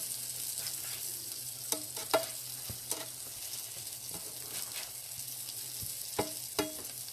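Eggplant parmesan pieces fry in a pan with a steady low sizzle, broken by a few sharp scrapes and clinks as the slices are stirred and turned.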